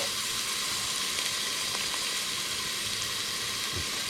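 Brown onion sautéing in a little oil for a Thai pumpkin soup, giving a steady, close, even sizzle with light hiss that carries unbroken for about four seconds, with no talking.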